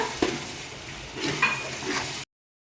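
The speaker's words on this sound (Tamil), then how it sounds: "இதுதான் எல்லா மசாலாவும் சேர்ந்து நல்லா இது வதங்கிடுச்சு" Masala sautés in a pan for chicken biryani with a brief close sizzle, a few stirring scrapes and a light clink of a utensil, then cuts to silence.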